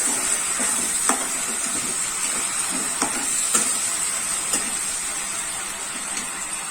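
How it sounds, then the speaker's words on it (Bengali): Sauce mixture of red chili sauce and soy sauce for dragon chicken, stirred in a hot pan: a steady bright sizzling hiss broken by regular light scrapes of a spoon. "এই মিক্সচারটা এর মধ্যে অ্যাড করছি। সবকিছু মিক্স করে দিচ্ছি।"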